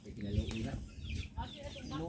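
Farm chickens clucking close by at a rural outdoor gathering, a steady run of short, throaty clucks layered over voices and background chatter.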